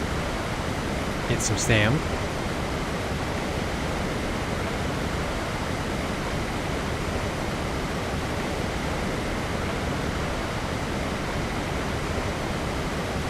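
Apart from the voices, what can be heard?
waterfall in the video game ARK: Survival Ascended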